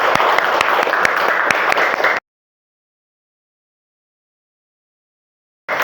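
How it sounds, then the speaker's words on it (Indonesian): Classroom applause from children, a lively burst of close, crisp claps that cuts off abruptly into silence, then resumes briefly at the end. "Tepuk tangan untuk kita semua."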